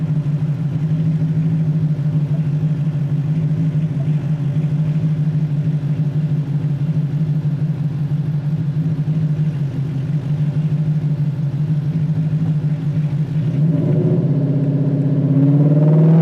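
A tuned 2024 Silver Bullet car runs on a dyno, its engine holding a loud, steady drone that shifts to a deeper rumble near the end.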